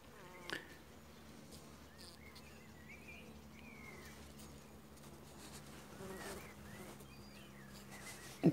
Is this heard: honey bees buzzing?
yes